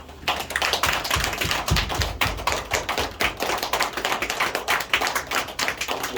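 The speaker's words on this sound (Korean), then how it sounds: "그분 우리 뜨거운 박수로 격려의 박수 부탁드리겠습니다" Church congregation applauding a pastor at a church founding service, a dense steady wash of many hands clapping for several seconds, fairly close and unbroken, with no talk over it.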